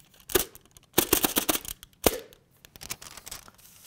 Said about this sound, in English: So you could pop it and use that.